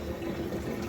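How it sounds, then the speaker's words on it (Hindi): Water pours from a pipe into a tank being half-filled before a pesticide solution is mixed, a short steady gushing stream heard up close with no talking. "ये सिर्फ पानी जा रहा है।"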